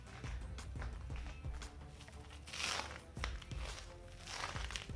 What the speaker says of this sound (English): You can hear from my footsteps that this clear is really sticky.